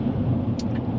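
A 2008 Porsche Cayenne GTS driving on the road, a loud, steady low engine and road rumble heard from inside the car, with a brief faint high hiss near the end.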